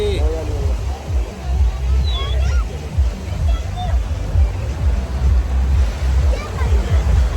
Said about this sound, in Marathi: किती पाणी आलंय बघा, लाटा पूर्ण शॅक